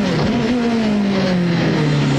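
CART race cars accelerating at the 1993 Long Beach street circuit, a loud, continuous high-revving engine whine whose pitch slides smoothly downward as the car passes near.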